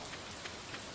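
Steady rain falls in the Stardew Valley video game, a soft, even patter of drops on surfaces, quiet and continuous with no voices.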